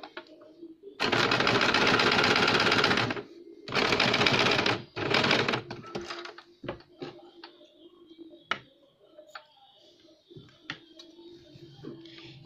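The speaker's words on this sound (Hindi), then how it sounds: "अब इसे वापस नीचे की ओर डबल सिलाई लगाएंगे।" A sewing machine double-stitches a blouse lining, running in three loud, close bursts of rapid mechanical chatter, the last one shortest, followed by quieter clicks and fabric handling.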